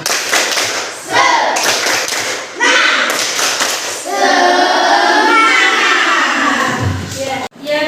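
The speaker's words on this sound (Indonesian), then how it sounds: "yuk tepuk semangat." Classroom rhythmic spirit clap (tepuk semangat) in a lesson setting: a near, loud run of patterned hand claps in bursts, with children's voices joining in throughout.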